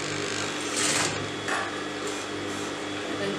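A sewing machine stitches fabric with a steady mechanical whir, close and continuous with slight shifts in speed, alone without talk.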